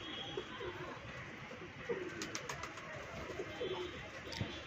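Faint pigeon cooing in short low calls over a steady background hiss, with a few light clicks and rustles.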